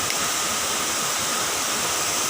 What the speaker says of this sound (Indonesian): Air terjun Sidoar.